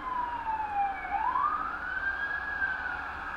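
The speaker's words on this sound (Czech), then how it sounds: "Sakra, tyhle sirény mě serou." Emergency vehicle siren wailing, a single clear tone that sweeps down and then climbs back up over a low background rumble of traffic, fairly prominent and with no voices.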